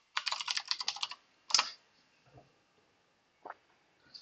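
Quick typing on a computer keyboard as file titles are entered, a close rapid run of keystrokes followed by a few isolated taps and pauses, with no talking.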